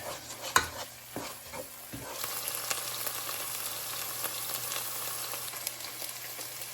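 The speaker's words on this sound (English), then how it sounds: "I decided to throw in some garlic as well" Garlic hits a hot pan, starting with a few sharp knocks and clatters, then settles into a steady, fairly quiet sizzle and crackle close by, with no speech.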